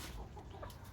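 Chickens in a coop give a brief, faint cluck over muffled background noise in a very short moment.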